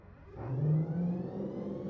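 A military helicopter engine in Arma 3 keeps running with a steady mid-range whine and whir that swells briefly before settling into an even drone, close and loud with no talk.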